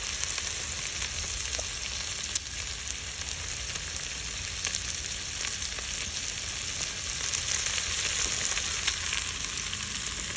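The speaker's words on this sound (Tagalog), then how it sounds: "So, nag-i-stir fry ako. Nilagyan ko na siya ng sibuyas and green onions." Beef stir-frying with onions and green onions, a dense, continuous close sizzle with faint stirring clicks, no speech.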